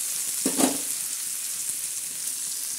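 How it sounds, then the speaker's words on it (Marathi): Tomatoes and onion fry in a pan with a steady, soft sizzle. A brief stir or scrape comes near the start. "आता हा टमाटे कांदा असा मस्तपैकी थोडासा असा लालसर होऊन द्यायचा."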